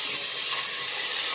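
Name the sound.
onions frying in a pan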